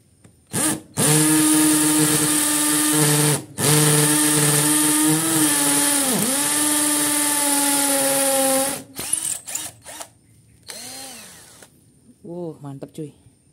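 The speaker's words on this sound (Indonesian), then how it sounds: "Oke, kita akan coba bolongin tembok ini. Kita udah setting ke mode drillnya." Unbranded budget cordless drill set to drill mode at its top speed of 25, boring into a masonry wall: a loud, steady high whine in two long bursts, then short starts and stops as it winds down.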